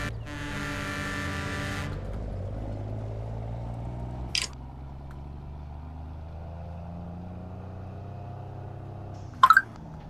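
Truck engine in Farming Simulator 19 with a steady idling drone throughout, a brief high whine near the start that cuts off, then two short sharp bursts near the end.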